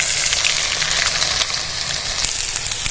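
Tomatoes hit hot oil tempered with black mustard seeds and dried red chilli, giving a loud, continuous hissing sizzle with scattered crackles and pops throughout.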